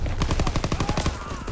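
Rapid automatic gunfire from the Call of Duty WW2 campaign rattles out in a tight, loud burst of a dozen or more shots, steady and continuous throughout.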